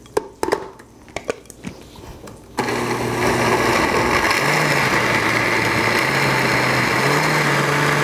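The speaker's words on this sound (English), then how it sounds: "Just incorporate everything slowly and start blending." After a few scattered knocks, a blender starts up with mole sauce ingredients, then runs as a loud, steady motor whine whose pitch shifts slightly as the mixture churns.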